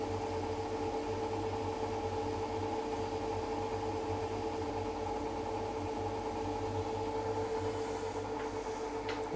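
Bosch 6 Series washer dryer drum spinning up, a steady close machine hum with a strong tonal whine and constant low rumble, gaining speed evenly throughout.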